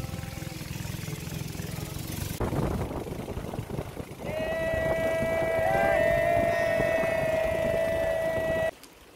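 A boat engine starts up and runs on the Padmajhiri stream, first rough rumbling and water noise, then a loud steady whining drone with strong tonal hum holding until an abrupt stop.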